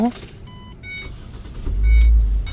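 A car engine turns over near the end, a short low rumble rising after a few soft electronic chime tones, with a voice speaking briefly at the start.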